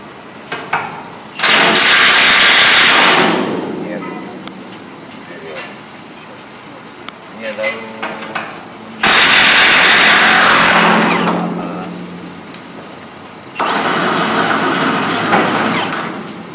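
A Milwaukee M18 CHIWF12 FUEL cordless impact wrench hammers loudly in three long bursts, each cutting in abruptly and ringing harshly for several seconds, with quieter gaps and faint voices between them.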